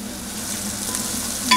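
Garlic paste and onions frying with turmeric in a pan give a steady, close sizzle with light stirring throughout, and a brief sharp clink of a utensil comes near the end.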